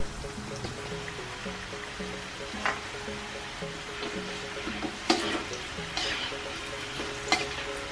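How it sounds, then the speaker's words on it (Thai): Tofu French fries frying in hot oil, a continuous bubbling sizzle with scattered pops and occasional stirring clinks, close and steady with no talking. "ทอดจนเป็นสีเหลืองทองนะคะ"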